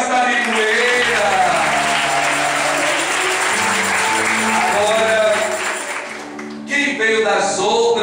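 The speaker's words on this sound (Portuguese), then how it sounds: "Vamos aplaudir a cidade de Ipueira." A crowd claps steadily and loudly, blending with cheers and music, before the applause thins out near the end, at a rural community gathering in Baraúnas, São Mamede, Paraíba, Brazil.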